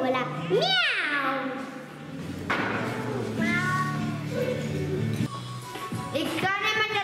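A voice imitates a cat's meow with several rising and falling mewing calls, loud and close, mixed with the child's singing and speech in Italian.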